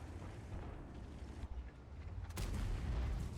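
In a video game, a single loud boom of a tank cannon firing bursts out partway through, over a steady low rumble of engine noise.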